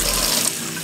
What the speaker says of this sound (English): I'm gonna fill up this bowl